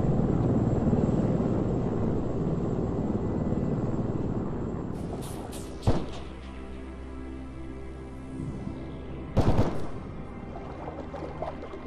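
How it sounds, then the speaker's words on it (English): A helicopter engine passes overhead in the video game Arma 3, muffled and fairly loud as a steady broad drone. Its level eases over the first seconds, and two sharp bursts cut in near the middle and again later. "We can hear the sound of a helicopter above us, with the noise of its engine slightly muffled by dynamic sound filtering"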